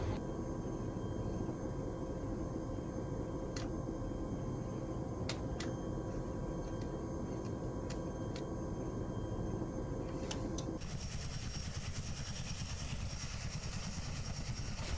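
A helicopter engine hums steadily in a military video game, a continuous mid-level drone with faint high whine tones and a few brief clicks, shifting in tone near the end.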